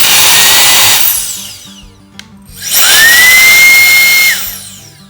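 A Jet Fan X11 blower, slightly noisy, spins up into a loud, close whining rush, cuts off briefly after a click, then revs again with a rising high whine that holds and drops away.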